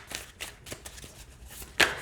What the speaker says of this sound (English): I really like how it shuffles.